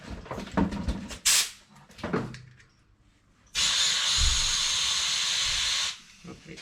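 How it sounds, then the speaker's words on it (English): Compressed air blasts through a PTFE Teflon fuel line on a car project, a steady loud hiss lasting a couple of seconds, preceded by a few short bursts and clunks. "you got to blow some air through it first"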